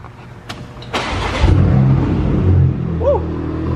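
A Porsche Macan Turbo S with a muffler delete cranks and fires up after a couple of clicks, its engine catching with a loud bark and settling into a rough, rumbling idle nearby, with a brief voice near the end.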